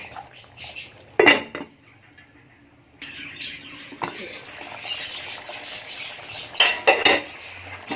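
A lid clanks onto a karahi, with a sharp metallic knock near the start and more rattling clatters of metal cookware, faint talk in the background.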